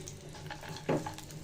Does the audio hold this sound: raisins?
yes